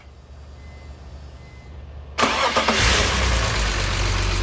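An Oldsmobile Rocket engine with about 170,000 miles cranks over cold, then catches with a sudden loud burst and settles into a rough, steady idle close by.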